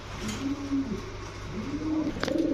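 Pigeons at a pigeon market give soft, low repeated coos close by, several rising and falling calls over steady background murmur.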